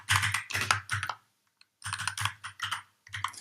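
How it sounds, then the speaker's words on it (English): Bursts of quick keystrokes on a computer keyboard, close and clear, in several short clusters separated by a brief pause. "I'm just going to type in the value"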